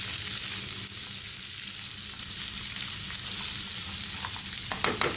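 Shredded cabbage stir-fried in a pan for veg noodles gives a loud, continuous sizzle with faint stirring scrapes near the end, and no voices.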